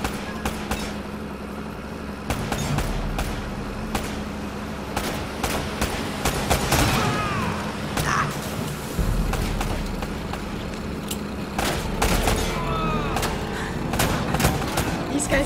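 Gunfire from an ambush in the video game Uncharted: Drake's Fortune: repeated sharp shots and bursts crackle across the whole stretch over a steady low rumble, loud and close, with scattered impacts and no talking.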